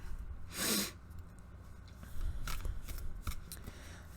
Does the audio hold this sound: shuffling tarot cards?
yes